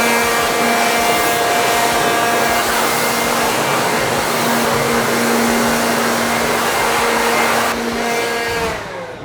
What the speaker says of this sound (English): want me to dry these off with the blower?